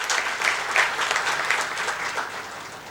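Audience applause at a talk on simplicity in life, giving Pareshbhai a second warm welcome: a dense, steady round of clapping from a sizeable crowd that holds an even level throughout.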